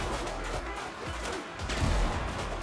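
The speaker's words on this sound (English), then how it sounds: "Fiery explosion, very nice." A fiery explosion in the pirate video game Windrose booms and crashes, followed by rumbling debris and a second heavy thud, loud and close.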